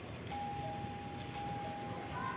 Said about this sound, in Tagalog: Dito ang doorbell namin.